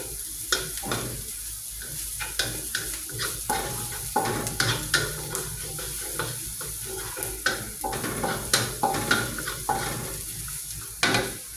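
Garlic sizzles and fries in a pan while stirring noise and scattered metallic clinks and scrapes of utensil against pan rise over a steady, close frying hiss.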